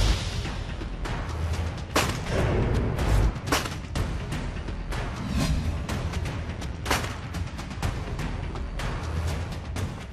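Sharp, loud rifle-like reports crack one after another at a shooting competition, spaced a second or two apart over a constant rumbling background.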